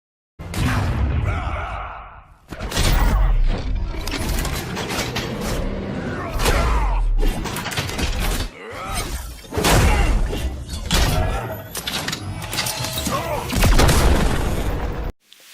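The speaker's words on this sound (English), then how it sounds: "this creates a giant robot, which then shoots you with a giant laser cannon." Parts assembling into a giant robot that then fires a huge laser cannon, a fighting-game super move with repeated mechanical clanks, shattering crashes, whooshes and booming blasts in loud bursts, with a voice briefly heard over them.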